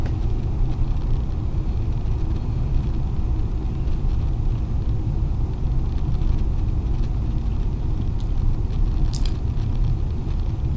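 Steady road traffic on the Oxford ring road, a busy main route out through West Oxfordshire, forms a continuous low rumble of passing cars and engines, fairly loud and unbroken throughout.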